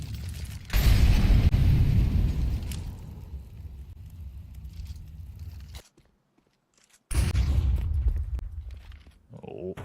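A big grenade blast in a professional Counter-Strike match: a loud, crunching roar holds for several seconds, cuts to near silence, then a second heavy burst follows, with esports commentators talking throughout.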